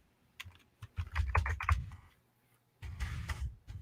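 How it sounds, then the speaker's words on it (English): Someone types on a computer keyboard with an injured finger, producing close, uneven bursts of clicks with a short pause before a final flurry of keystrokes. "Still got my busted up finger. So it's really crappy typing."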